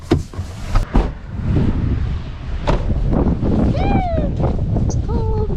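Gusty wind buffets the microphone outdoors in blowing snow and icy cold, a steady broadband roar with sharper gusts, while voices talk over it.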